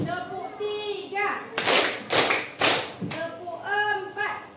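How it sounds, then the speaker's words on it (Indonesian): A class of children chants a rhythmic spirit cheer, punctuating it with three or four crisp, evenly spaced bursts of group clapping between the chanted phrases. "sekarang kita tepuk semangat dulu"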